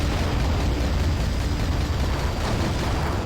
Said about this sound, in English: like some of the sounds, like the explosions and your guns, like sound like just slightly muted